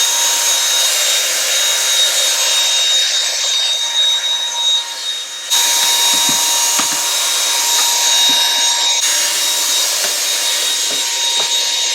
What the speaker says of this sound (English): I was able to vacuum the tablecloth so that it was nice and clean